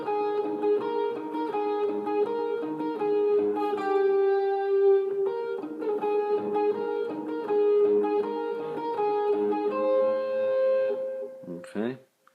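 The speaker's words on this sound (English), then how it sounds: "it sounds like this, and a little bit of palm muting" A distorted electric guitar plays a steady, repeating riff with light palm muting. The notes are chugged in an even rhythm for about twelve seconds, then cut off abruptly at the end.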